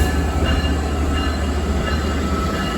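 A Long Island Rail Road train rolls past at Babylon on a warm, cloudy day, a loud, steady rumble of rail cars and wheels filling the whole stretch with no pause.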